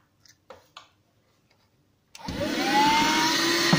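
Vacuum cleaner sucking debris from a savannah monitor lizard's enclosure with a lino floor: a few soft knocks and taps, then the motor starts up and rises into a loud steady whine and rush that holds to the end.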